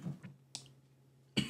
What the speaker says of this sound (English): I'm coughing because, like, I've been getting over a cold for the last, like, week.